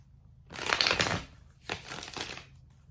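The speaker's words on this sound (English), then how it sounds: "We're gonna do one more shuffle." Tarot cards riffled in two separate bursts, a longer crisp shuffle followed by a shorter one, close and fairly quiet with no voices.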